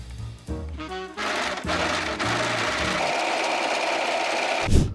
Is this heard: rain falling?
no